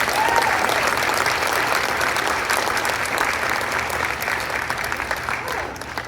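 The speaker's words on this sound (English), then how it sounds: "Yeah, let's clap for Angie Smith." An audience claps steadily through a memorial tribute at a live event, a dense wash of applause that holds for several seconds and eases slightly toward the end.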